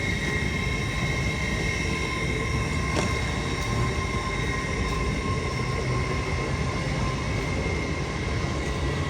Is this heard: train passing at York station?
yes